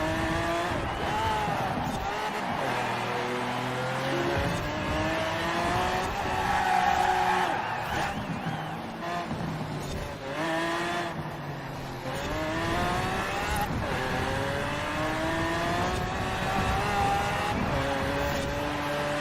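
Cadillac Escalade racing against AI cars in Forza Horizon 4, engine droning and shifting pitch steadily throughout with occasional tire squeal, loud and continuous.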